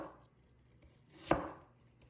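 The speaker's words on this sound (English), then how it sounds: "Now I want to cut each apple in half and then make 1/8 to 1/4 inch crosswise slices." A knife cutting through an apple, halving it for crosswise slices, gives a single soft chop on the board, quiet and close in a still room.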